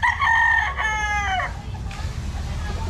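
A sweater gamefowl rooster from a game farm crows once, loud and close, with a long harmonic call that drops at the end, followed by low background rumble.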